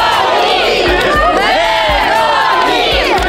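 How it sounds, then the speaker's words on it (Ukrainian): Crowd of Ukrainian soldiers cheering and whooping joyfully at night as vehicle headlights arrive, a loud continuous mass of overlapping shouts and cries, close and dense throughout. "залунали радісні вигуки"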